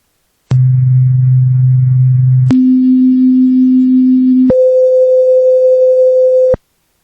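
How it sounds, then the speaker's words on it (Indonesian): Three pure electronic C tones, C3, C4 and C5, each held steadily for about two seconds, stepping up an octave at a time, loud and clean with no other sound. "tiga nada C ini masing-masing punya frekuensi yang berbeda"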